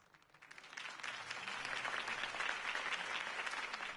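Crowd applause in the video game Batman: The Telltale Series, at a campaign rally for Harvey Dent: a dense, steady wash of clapping that swells within the first second and holds loud to the end.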